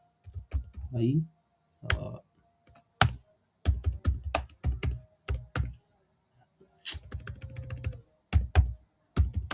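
Computer keyboard typing comes in irregular bursts of close, crisp key clicks with short pauses between them, and a brief voice sound occurs near the start.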